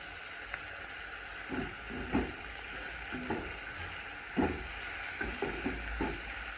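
Crushed potato fries in a pan for a spicy potato bhaji, giving a faint continuous sizzle with scattered soft scrapes and bumps from stirring, fairly quiet and without speech.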